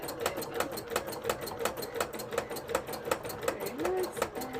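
A sewing machine stitches fabric for a piece of Final Fantasy IX Vivi embroidery art, a rapid, even train of needle clicks running steadily throughout at close range.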